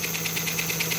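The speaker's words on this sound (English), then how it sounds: "I'm just testing the mechanical Chuff sound." Mechanical chuff from a vintage model train engine's smoke unit under test with no smoke connected, a steady rhythmic puffing beat about ten times a second over a constant motor hum, close and even.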